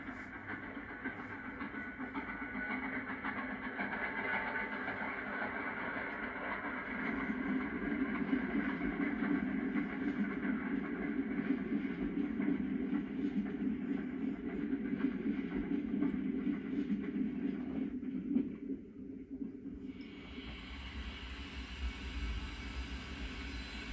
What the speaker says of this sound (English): a Pennsy train heads west to Richmond, Indiana, over the Dayton Union's Great Miami River Bridge